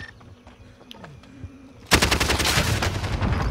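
Call of Duty Warzone gunfire erupts after a quiet stretch of faint game ambience, a loud rapid burst of automatic shots continuing to the end, up close and without voices.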